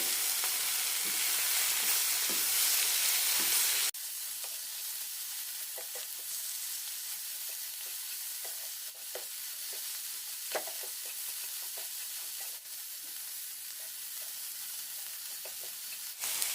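A beetroot and egg mixture stirred and fried in a pan, first a loud burst of sizzling, then a steadier, quieter frying hiss with occasional scrapes and taps of a spatula, with no talking.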